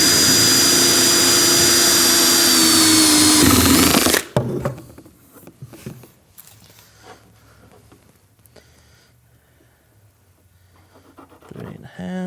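A power drill with a step bit boring a 3/4 inch hole on a Milwaukee 8 Road Glide, a loud steady whine for about four seconds that stops abruptly, followed by quiet handling noises.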